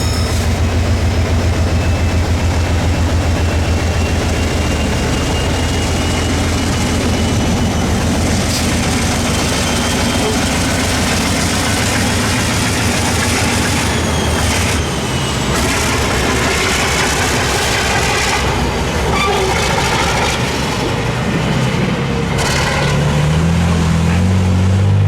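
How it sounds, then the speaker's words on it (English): Alco diesel locomotive Engine 367 on the Shenandoah Valley Railroad, a heavy continuous chugging engine rumble with hiss and rattle, loud and close throughout, later joined by rolling wagon clatter as the train moves past. "It was a treat to hear the trademark chug of the American Locomotive Company as Engine 367 prepared the day's train."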